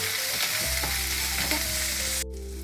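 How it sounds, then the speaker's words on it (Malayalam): Onion and garlic sautéing in a hot pan, a steady loud sizzle with stirring that stops abruptly near the end. "സവോളയും വെളുത്തുള്ളി ഇടുക ആദ്യം. അതൊന്ന് ജസ്റ്റ് ഒന്ന് സോട്ടേ ചെയ്യുക"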